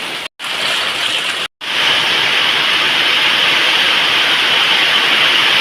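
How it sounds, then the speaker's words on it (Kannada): Heavy rain pouring outdoors during a windy monsoon day, a dense, steady roar that fills the scene after two brief dropouts near the start, with no voices. "ಜೋರು ಮಳೆ ಬರ್ತಾ ಉಂಟು."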